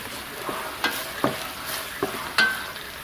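White wine simmers and sizzles in a pan, a soft steady frying hiss broken by a few sharp scrapes and clicks of stirring, with no voices.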